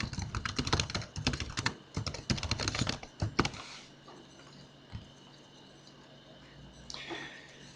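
Computer keyboard typing as an email address and password are entered, a quick run of close, crisp key taps for about four seconds, then quiet room tone with a single faint click.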